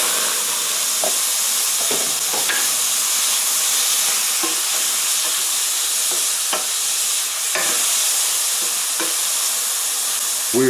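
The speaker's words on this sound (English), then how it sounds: "Now we're going to put the shrimp in." Shrimp sizzle loudly in hot oil for crawfish jambalaya, a steady close frying hiss throughout with faint scrapes of stirring now and then, and no talking.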